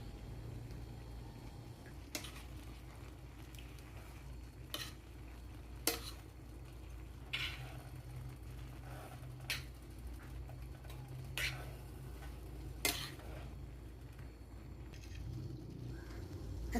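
Cabbage and carrots are stir-fried for pansit bato in a quiet, soft sizzle, broken by sharp spatula taps against the pan every second or two over a low hum.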